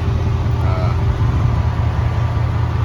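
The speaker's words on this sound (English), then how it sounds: "So I had a knocking sound coming from the engine." A Chevrolet Camaro with an LS3/L99 V8 and a knocking engine fault idles up close, giving a steady low mechanical rumble with no talk over it.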